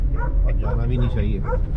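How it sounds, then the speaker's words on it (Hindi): Dogs barking and yipping somewhere on a fog-bound road in Lahore, a few short barks heard under someone talking over steady low vehicle rumble. "कुत्ते भी भौंक रहे हैं"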